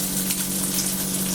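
Onion fries in a pan with a steady, close sizzle and a soft crackle that runs unbroken throughout.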